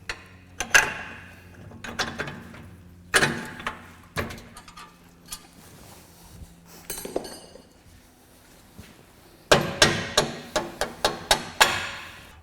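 A hammer taps a bolt through a front lower suspension wishbone on a Land Rover Discovery 3, 4 or Range Rover Sport, with sharp metallic strikes in scattered groups and a fast run of repeated blows near the end.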